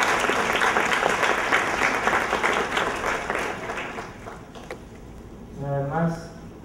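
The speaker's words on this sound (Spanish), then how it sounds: "Humildemente, me gustaría pedir un aplauso para nuestro hermano pastor." Congregation at a church singles conference applauds for a pastor, a dense burst of clapping that fades over several seconds before a voice speaks briefly at the end.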